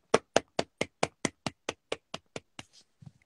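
One person clapping on a live stream, about a dozen crisp, evenly spaced claps close to the mic, then a brief pause and a couple of soft knocks.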